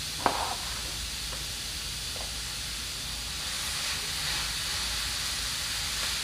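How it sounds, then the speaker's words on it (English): Ground beef sizzling in a pan as it cooks, giving a steady, even hiss throughout with a faint clatter near the start. "Put my beef in the pan."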